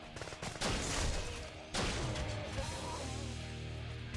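Gunfire from a weapon in the first-person shooter Painkiller Hell and Damnation, with heavy crashing shots at the start and again near the middle, then loud sustained battle noise to the end.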